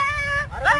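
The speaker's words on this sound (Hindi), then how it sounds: "अंदर कुत्ता भौंक रहा है" A dog shut inside a box whimpers and yelps in a strained, tonal cry, rising then breaking into a short higher yelp, close and fairly loud.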